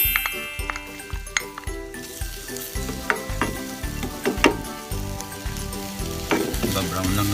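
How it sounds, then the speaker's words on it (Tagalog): Ginger sautéing in a little oil in a pan, a continuous hiss punctuated by repeated sharp clinks and scrapes of a utensil against the pan, close and moderately loud, no talking. "So naglagay lang ako ng konting mantika para dito sa pan, mag-isa natin yung ginger, yung luya."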